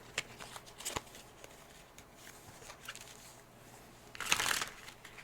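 Tarot cards shuffled by hand in a quiet room, a soft riffling patter throughout that swells into a brief louder burst of rapid card flutter near the end.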